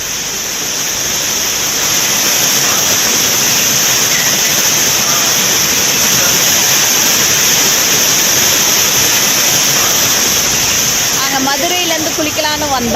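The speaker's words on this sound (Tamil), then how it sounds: "குற்றாலம் மெயினருவியில் தண்ணீர் ஆர்ப்பரித்து கொட்டுகிறது" The Courtallam main waterfall pours down hard after heavy rain, a loud, continuous roaring rush of water that holds steady from start to finish, with faint voices surfacing near the end.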